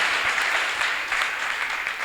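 Congregation in a church clapping hands together for Jesus during a healing testimony service, a dense steady wash of many hands filling the room at moderate level, with no break.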